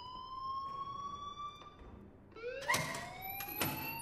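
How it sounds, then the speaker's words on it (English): Alarm ringing in the video game Life is Strange, a wailing tone that rises and falls, then jumps to a louder, sharper blare with a couple of bursts near the end. "please turn off that alarm since that's your job"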